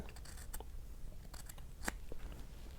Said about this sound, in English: I can trim them off at the same time